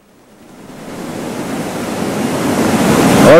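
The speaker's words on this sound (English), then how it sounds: "This is probably the roughest water that we've seen." Rough river water rushing near Big Beaver Falls, a broad steady roar of turbulent flow that swells gradually louder throughout, with no voices.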